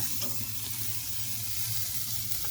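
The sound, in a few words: steak fat searing directly over the fire on offset smoker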